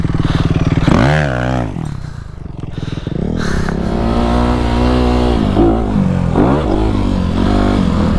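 A 2020 Sierra F250RX dirt bike engine revs up and down in the desert, loud and close, its pitch rising and falling through several throttle blips.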